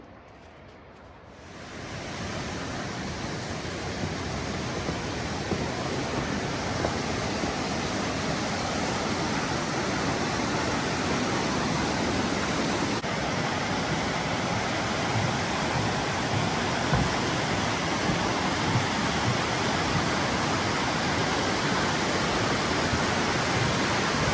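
The Toxaway River rushing in a gorge, a dense, steady roar of flowing water that swells in after a quiet first second and then holds loud and unbroken throughout.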